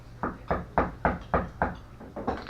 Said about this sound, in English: he heard a knock on the door.